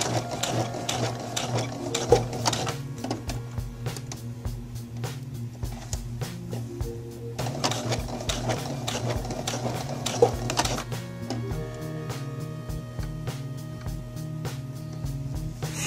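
Sewing machine stitching a blind hem zigzag on pants, a steady fast mechanical whir with rapid needle clatter running continuously and close, briefly slowing at moments.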